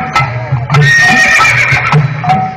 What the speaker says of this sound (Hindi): क्या आप घोड़े देखना पसंद करेंगे?